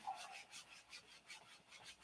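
Sanding a doped aircraft fabric finish to level painted graphics, a soft rhythmic back-and-forth rubbing with even, repeated strokes, close and faint.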